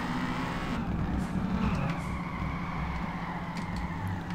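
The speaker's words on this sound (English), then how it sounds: "Oh no, he's spun out." A car spins out while drifting in the racing game Peak Angle, its tyres skidding in a sustained screech over a steady engine drone, at moderate level with no one talking.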